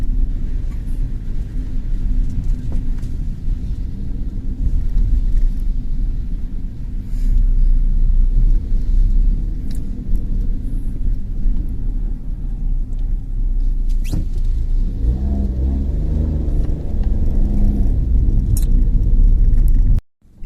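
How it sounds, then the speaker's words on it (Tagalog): Weekday morning rush-hour traffic in Japan, with many cars passing in a steady, loud rumble of engines and tyres, swelling and fading close by before cutting off abruptly. "Umaga talaga medyo matraffic kasi pasok, oras ng pasok kasi, kaya maraming sasakyan."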